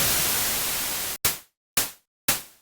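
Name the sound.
white noise through bandpass filter, synth open hi-hat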